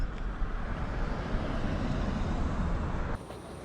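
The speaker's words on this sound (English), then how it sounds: "Here comes one of the fuel trucks." A fuel truck rumbles at the SpaceX launch site, a heavy low-pitched engine drone and road noise that holds steady, then drops off sharply near the end.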